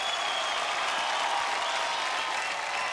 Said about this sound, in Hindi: ओके, एक बार जोरदार तालियां हो जाए आप सबके लिए।